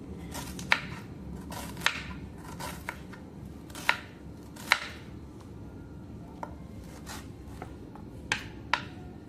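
A knife cuts a tomato on a board in about a dozen soft, irregular taps, quiet and near, over faint room background with no speech.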